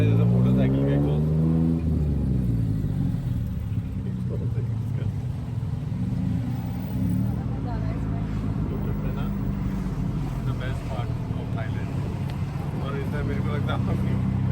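A tuk-tuk engine in Bangkok gives a steady, close exhaust rumble that swells briefly at the start as it revs, then holds a constant drone while people talk.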